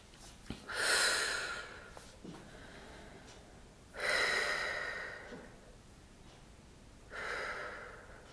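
Three slow, audible breaths spaced a few seconds apart, each a soft rushing exhale of relaxation breathing, close and quiet against a still background.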